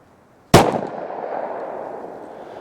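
A single sharp, loud Glock 27 pistol shot fired with Winchester Silvertip ammunition cracks once, then trails off into a long fading echo.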